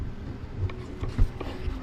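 Small mechanical clicks and scrapes of a part being tightened by hand on an Anycubic Kobra 3 Max 3D printer, a few faint ratcheting ticks at close range.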